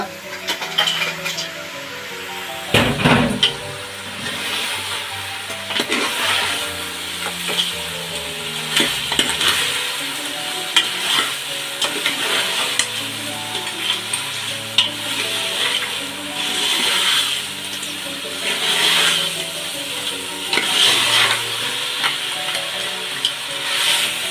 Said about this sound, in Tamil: இப்போ வந்து நண்டு போட்டுருவோம் நண்டு போட்டு ரெண்டு நிமிஷம் அதோட வதக்கும் மசாலாவோட